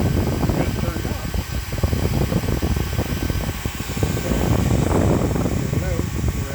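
A Nomad II portable air compressor runs steadily while charging a Benjamin Bulldog .357 air rifle up to 3000 PSI, giving a continuous loud mechanical drone and whir under a man's speech throughout.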